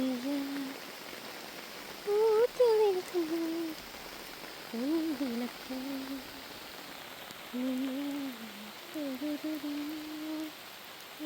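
Steady rain falls around an old temple in a forested area near Muchukunnu, a constant soft hiss, with a voice talking over it at intervals.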